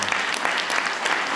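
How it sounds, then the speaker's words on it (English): A crowd applauds a speech by President Obama on the Precision Medicine Initiative, with close, loud, continuous clapping from many hands filling the whole stretch. "Nothing wrong with clapping about that."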